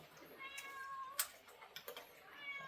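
Several kittens indoors near their food and water on a carpeted concrete floor give soft, faint meows, a few short high calls and light ticking sounds scattered through a quiet room.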